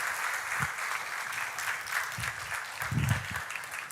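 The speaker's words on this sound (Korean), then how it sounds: "여러분 뜨거운 박수로 축복해 주시기 바랍니다" A church congregation at a Sunday service applauding, moderate and somewhat distant clapping that holds steady throughout with a few low thumps mixed in.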